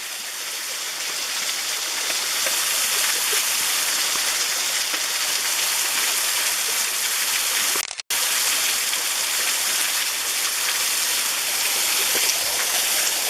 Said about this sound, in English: But here's the waterfall again.